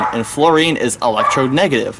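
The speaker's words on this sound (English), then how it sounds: "Pardon the dog barking in the background every once in a while." A dog barks and yips in the background while someone talks continuously over it.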